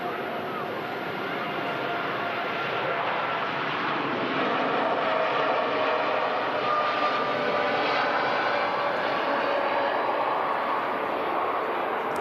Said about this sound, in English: This aircraft off to Tenerife.